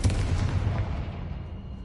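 A Confringo blasting curse explodes in Hogwarts Legacy, a loud booming burst with a deep rumbling low end that decays slowly over about two seconds, no voices.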